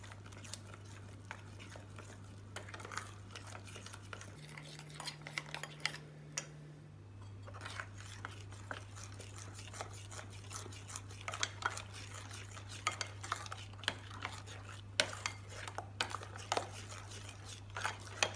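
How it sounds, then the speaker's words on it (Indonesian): Sugar being stirred into about 200 ml of water in a bowl, a steady run of faint ticking scrapes and clinks from the spoon against the container, quiet and close over a low steady hum. "Diaduk sampai gulanya larut."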